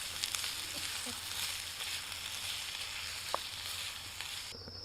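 Onions, garlic, tomatoes, ginger and yellow chilli cooking in a pan at an outdoor wild camp in dry forest, giving a steady soft sizzle with faint pops and a brief clink near the end.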